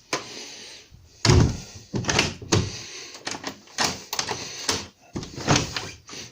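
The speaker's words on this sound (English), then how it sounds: "So put a new handle on, adjusted the mechanism a little bit because the door's dropped a bit." A PVC basement door with a new handle and a readjusted mechanism, after it had dropped, is opened and shut several times, giving a series of close, solid clunks and latch knocks with short pauses between them.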